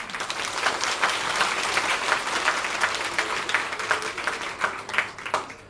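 Sustained applause from a gathered audience at a Swahili-language political event, dense clapping with a few sharper individual claps standing out toward the end, no talk over it.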